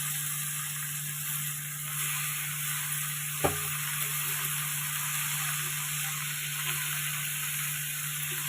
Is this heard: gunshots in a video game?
no